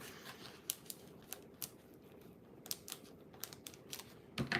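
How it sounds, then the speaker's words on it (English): Scissors snip off a small piece of paper, a few faint, sharp clicks scattered across the quiet, then a brief louder cluster of snips at the end, with no talking. "Just going to snip off a little bit over here"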